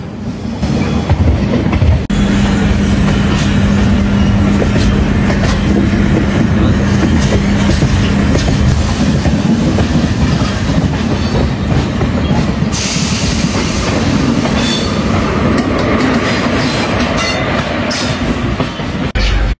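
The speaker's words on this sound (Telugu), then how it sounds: "ట్రైన్ స్టార్ట్ అయింది" The Tirumala Express from Visakhapatnam to Tirupati rumbles loudly along the rails, heard from inside a carriage as a constant dense roar with rhythmic clatter and a brief low hum.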